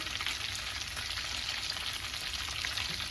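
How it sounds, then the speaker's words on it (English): Chicken and cheese flautas fry in hot oil with a steady, dense crackling sizzle, close and even throughout, with no talking. "you can see they're just kind of frying away, looking beautiful"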